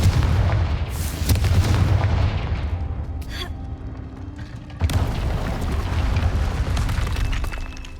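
Confringo explosive spell blasts in the Hogwarts Legacy video game, heavy booming impacts with crackling debris and rumble, a second loud blast partway through, dense and loud throughout.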